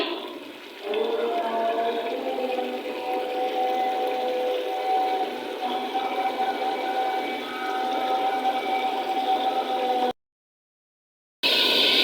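Water pours steadily into a pot of dal mash, a continuous rushing and gurgling with rising tonal hiss, then abruptly stops before a brief resumption.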